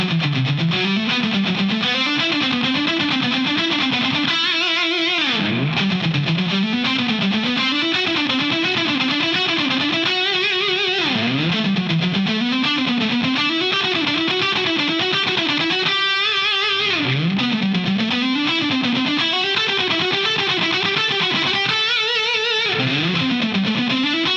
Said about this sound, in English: I'm playing with a lot of distortion